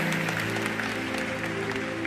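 Church congregation applauding during a Christian service, a steady dense clapping texture that fills the whole short stretch at moderate level, with tonal music or a held drone underneath.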